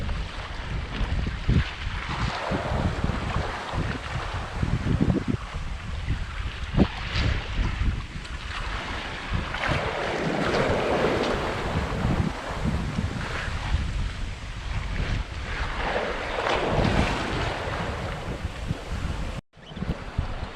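A Contessa 26 sailboat running downwind under reefed jib and double-reefed main at sea, with constant rushing wind buffeting the microphone and swelling surges of waves and water along the hull.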